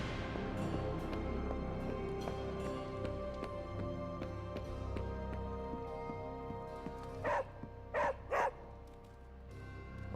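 A dog named Charlie in Marvel's Midnight Suns gives a few short barks near the end, loud and close, after a stretch of quiet background.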